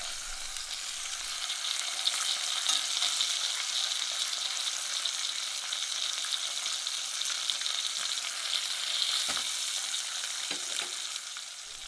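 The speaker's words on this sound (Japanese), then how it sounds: "ほほ肉は全面、できる限り全面焼いていきます" Beef cheeks searing in a pan with garlic, a steady close sizzle and crackle of frying that runs unbroken throughout, with occasional small stirring or shifting sounds and no talking.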